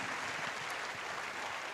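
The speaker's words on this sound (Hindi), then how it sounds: "सो जोरदार तालियों से स्वागत करिए प्रज्ञा का." Audience of an Amway Diamond event clapping steadily to welcome a speaker, a dense, even burst of applause heard in a hall.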